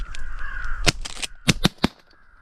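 Several sharp shotgun-like cracks during an outdoor crow hunt, one isolated shot followed by a quick cluster of three, with crows cawing in the background.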